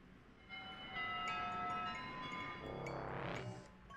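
Bells ringing in the video game Happy Game, bright sustained tones layered over a low rumble, moderately loud, followed by a rising sweep near the end.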